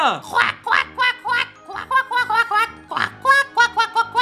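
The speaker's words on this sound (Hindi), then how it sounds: "यहाँ पर अभी तीन बतख आ चुकी है" Ducks in the GTA 5 video game quack in a quick, loud run of short, nasal calls, clustered close together and repeating with barely a pause.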